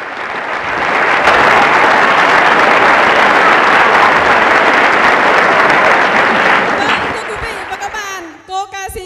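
Loud, sustained applause from a large crowd at a Vogtland Idol music talent show in Plauen, dense clapping that swells and holds for several seconds before tapering off into scattered claps and noise.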